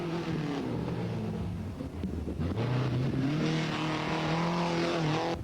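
A Mini rally car at the 1982 Kerry Single Stages Rally drives past on a stage, its engine droning steadily with shifting pitch and revving as it moves by, loud and close throughout.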